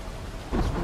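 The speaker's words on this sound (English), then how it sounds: "Raining." Rain with a low rumble of thunder in a zombie survival video game, a steady wash of rainfall swelling into a louder roll midway through the brief moment, with no voices.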